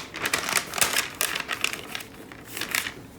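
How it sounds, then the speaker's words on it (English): Paper crinkles and rustles in repeated bursts as mended paperback books are wrapped in backing paper, close and fairly quiet, with no talk. "Now I'm going to wrap this in the backing paper."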